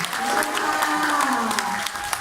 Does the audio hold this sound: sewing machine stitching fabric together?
no